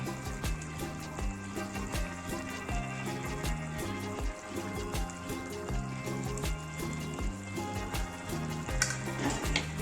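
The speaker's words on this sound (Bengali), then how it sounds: "এবার বেসনের বড়াগুলো দিয়ে দেবো মাঝে" Gram flour fritters are dropped into a pan of frying green banana and potato curry, producing a steady close sizzle and bubbling that runs throughout with no talking.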